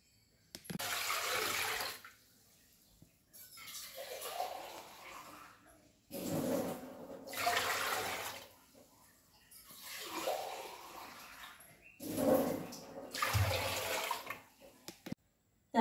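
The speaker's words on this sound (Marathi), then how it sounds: "याच्यात मी सगळ्यात आधी पाणी घालून घेणार आहे." Water is poured into a cooking pot in several long gushing bursts separated by short pauses, before tamarind is added to a home-cooked dish.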